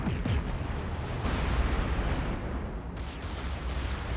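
Heavy naval gunfire from warship battles in World of Warships, a dense continuous rumble of booming artillery salvos and explosions, loud and sustained with no voices.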